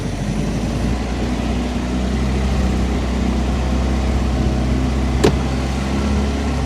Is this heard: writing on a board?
no